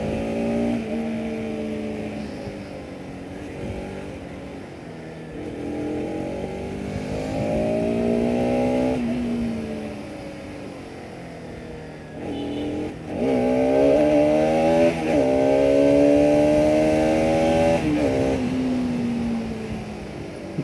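A Bajaj Pulsar RS200 motorcycle revs repeatedly. The close exhaust note climbs and falls in pitch with each blip of the throttle, with no talk over it.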